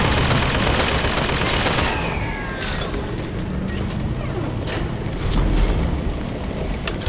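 Dense, loud gunfire in the video game Bioshock Infinite: Burial At Sea, a roaring sustained fusillade at first, then sporadic sharp shots and booms over a noisy battle backdrop.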